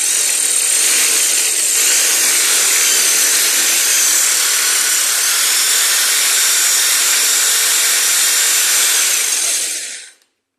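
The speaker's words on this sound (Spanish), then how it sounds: "Ponéis en modo taladro y lo ajustamos justo horizontal y para adentro." A power drill in drill mode bores into ceramic tile, a loud, steady high-pitched grinding whine held for about ten seconds before stopping abruptly.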